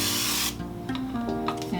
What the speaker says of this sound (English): we're going to spray that with some cooking oil